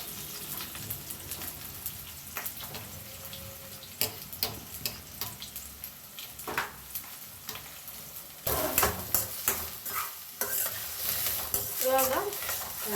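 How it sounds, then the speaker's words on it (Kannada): Sliced onions with curry leaves fry in a pan for chicken curry, a soft continuous sizzle broken by scraping stirs and spoon clatter, growing louder toward the end, with no talking. "ಗೋಲ್ಡನ್ ಬ್ರೌನ್ ಆಗೋ ತನಕ ಫ್ರೈ ಮಾಡಬೇಕು."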